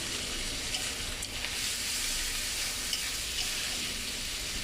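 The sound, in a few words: dried fish frying in spiced masala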